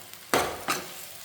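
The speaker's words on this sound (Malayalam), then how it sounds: "ഇനി ഇതിൻ്റെ മുകളിലേക്ക് നമുക്ക് കുറച്ച് കറിവേപ്പില ഇട്ട് കൊടുക്കാം. നല്ലോണം മിക്സ് ചെയ്തെടുക്കാം." Masala-coated sardine fry being mixed with curry leaves, two quick scraping, sizzling tosses in a pan, close and brief.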